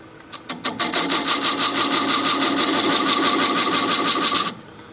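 A 1/4 inch spindle gouge cutting a groove into a spinning wooden bowl on a lathe starts with a few quick taps, then becomes a steady, close, hissing scrape for about four seconds before stopping abruptly.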